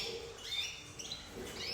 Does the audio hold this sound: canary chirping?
yes